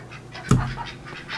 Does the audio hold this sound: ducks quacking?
yes